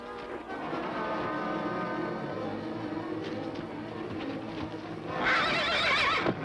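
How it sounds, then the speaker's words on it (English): A horse neighs and whinnies repeatedly, loud and close, rising into a shrill, strained squeal near the end, with faint hoof clatter. "That horse is a killer!"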